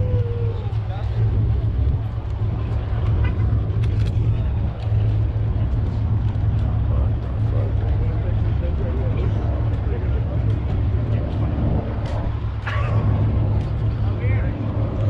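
Cars idling and rumbling at a Ford Mustang car meet, a steady low engine drone with occasional revs while several people talk over it close by.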